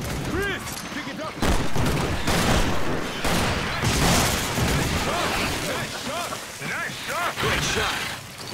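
Dense, overlapping gunfire and blasts from the video game Resident Evil 5, a Mercenaries match, filling the whole stretch with steady loud shooting and shouted voices mixed in.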